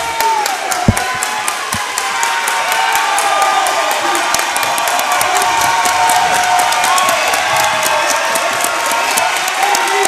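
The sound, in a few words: noisy crowd cheering at varsity basketball game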